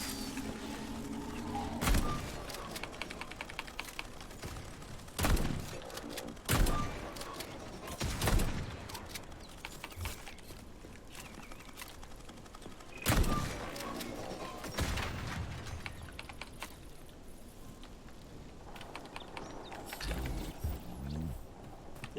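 Gunfire in the shooter game Atomic Heart comes as several loud, sharp bursts spread across the clip, each ringing out between quieter stretches of mechanical game noise.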